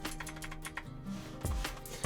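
Keys clatter in a quick, uneven run of close clicks, a short burst of typing on a computer keyboard with no one talking over it.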